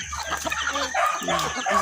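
Chickens clucking close by in a steady, busy chatter, with a rooster-like call rising over the flock; no talking.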